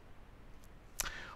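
A single faint, sharp mouse click in a quiet room, briefly preceded by soft breathy noise.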